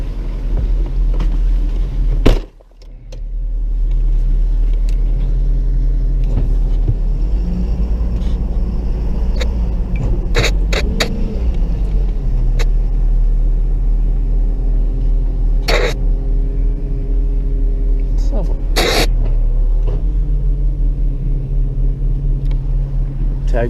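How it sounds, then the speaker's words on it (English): A tow truck's engine runs steadily throughout, a constant low idle rumble near the microphone, with a cough and brief voices and clatter breaking in over it. "Hey, get that truck running."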